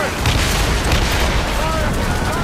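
Ship cannon fire in Assassin's Creed Rogue Remastered, a loud, dense barrage of booming shots rolling over one another through the whole moment, with shouting voices underneath.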